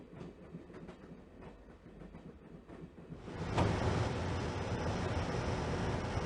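A train rolls along its rails in the Broken Sword: The Shadow of the Templars adventure game. A quieter rumble with faint clatter swells after a few seconds into a loud, steady roar of rushing wheel noise.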